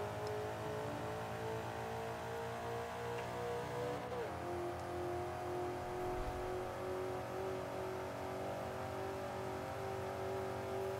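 Race car engines roar steadily through a Forza 5 video game race, a continuous loud droning whine with shifting pitch as the cars accelerate, with no talking.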